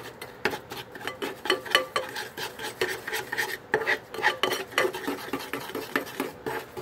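A hot, still-warm mixture of wax and chemical smoke bomb ingredients being stirred steadily, with repeated scraping and rasping strokes against the container in an irregular rhythm, close and moderately loud, with no talking.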